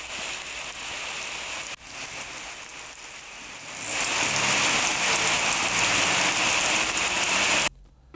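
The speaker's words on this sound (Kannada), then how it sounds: "ಧಾರಾಕಾರವಾಗಿ ಮಳೆಯಾಗಿದೆ." Heavy downpour across farmland in Mandya district, a dense steady hiss of rain on surfaces that grows louder and fuller midway, then cuts off abruptly near the end; no voices.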